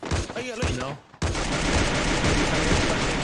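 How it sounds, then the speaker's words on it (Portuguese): Rapid gunfire rattles through a battle royale video game, a dense sustained burst of shots that starts loud after a short pause, following a brief stretch of voices and noise. "que tiro pra cacete"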